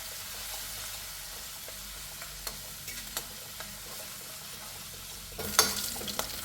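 Ginger, garlic and green chilli fry in coconut oil for a Kerala-style prawn dish, a soft steady sizzle with occasional stirring clicks, growing louder and busier near the end.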